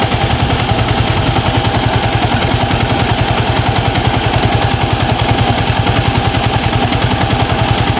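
A Yamaha MT15 motorcycle's radiator fan spins hard beside the running engine, a loud, steady, rapid mechanical pulsing whir that continues without a break.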